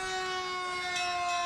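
Steady, piercing wail of a Carmel Fire Engine 341 siren rolling by in a Fourth of July-style town parade, holding a sustained tone throughout the short burst with no talking.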